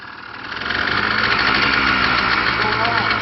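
An ATV engine revs as the rider tries to shift into second gear, swelling from a lower hum into a loud, steady, buzzing drone that holds close to the microphone.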